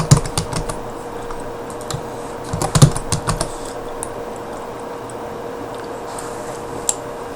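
Quick bursts of typing on a computer keyboard while entering product information into a dental office app, close and clear, with short pauses between runs of keystrokes and a faint steady hum underneath.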